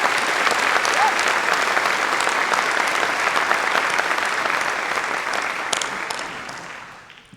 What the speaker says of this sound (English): I'd like to give a round of applause and thank you to Mr. Ferguson